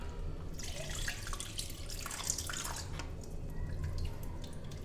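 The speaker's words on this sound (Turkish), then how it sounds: "Sıktığımız portakal suyunu süzgeçten geçiriyoruz." Orange juice trickling and dripping through a kitchen sieve for homemade soda, a steady liquid patter close by with brief louder splashes, no talking.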